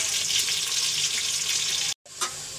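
Onions, garam masala and bay leaves sizzle loudly in hot oil for pilau, a steady bright frying hiss that cuts out abruptly near the end and then resumes more faintly, with no voices.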